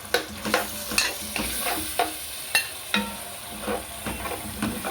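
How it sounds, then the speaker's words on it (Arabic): Onion caramelizing in a pan, seasoned with black pepper and salt, sizzling steadily while a utensil stirs it in repeated scraping strokes, close and alone. "هحط البصله كرمله معايا"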